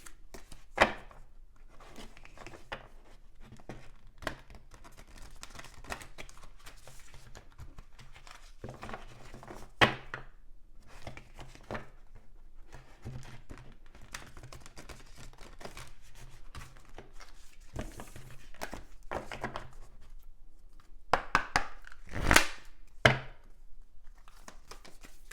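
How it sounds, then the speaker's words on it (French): Oracle cards being shuffled by hand make a quick, dry patter of riffles and slides, close and fairly quiet, continuing with short bursts and a louder flurry near the end. "Donc vous allez choisir entre deux cartes. Je vais d'abord les mélanger."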